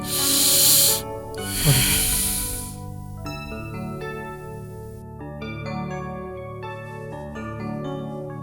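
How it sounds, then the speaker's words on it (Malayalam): Two long, noisy breaths drawn in and let out up close during a medical examination, followed by soft background music. "ആ ശ്വാസം ഒന്ന് വലിച്ചൂട്ടെ"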